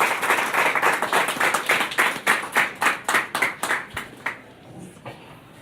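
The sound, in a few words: applause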